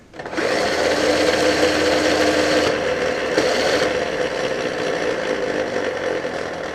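A battery drill drives a homemade plywood go kart, giving a loud, steady high-pitched motor whine with a brief pitch shift partway through, running continuously with no talk.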